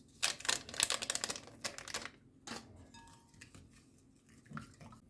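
Spoon stirring sugar in a bowl for a wholegrain bread dough, a quick run of clinking, scraping strokes up close, then quieter with a few faint taps.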